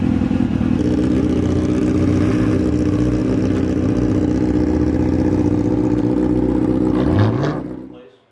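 A BMW 335i fitted with a Brembo brake kit drives past, its engine a loud steady drone with a rising and falling whine that cuts off abruptly near the end.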